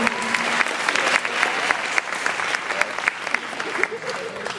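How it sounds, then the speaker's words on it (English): A high school audience at a hypnotist show applauding steadily, dense clapping throughout, fairly loud and sustained, with faint voices mixed in. "Nice round of applause right here, ladies and gentlemen."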